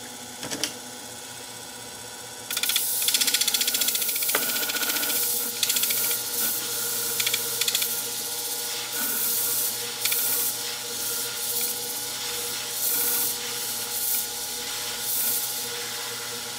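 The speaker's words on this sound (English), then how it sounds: "When I polish it, it should look better." A Bonika convex edge shear blade is polished in close, steady rubbing strokes, a bright abrasive hiss that starts after a quieter opening and runs with short breaks, no voices.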